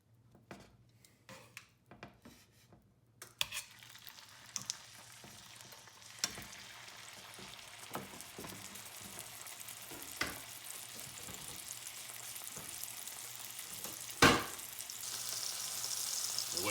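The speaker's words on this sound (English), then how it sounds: "That means it's hot, so we're going to get in there just for a quick sear." Specklebelly goose breast searing in foaming butter and olive oil in a cast iron pan, a sizzle that builds steadily louder, marked by scattered clinks and taps of utensils against the pan.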